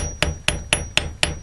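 A hammer flattens beaded wire with five sharp, evenly spaced taps about a quarter second apart. The strikes are close and clear, with nobody talking.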